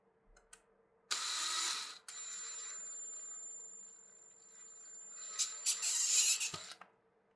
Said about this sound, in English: I'm going to open up these holes a little bit using a drill